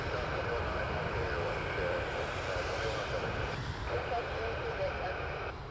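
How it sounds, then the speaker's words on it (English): A jet airliner rolls and climbs away at Toronto Pearson Airport, a steady broad engine roar heard from a distance that holds evenly throughout, with wind noise on the microphone. "Cleared for takeoff."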